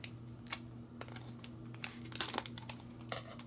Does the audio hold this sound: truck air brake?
no